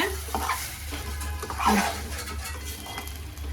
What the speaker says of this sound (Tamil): அரைச்ச மசாலாவை போட்டு நல்லா வதக்கலாங்க.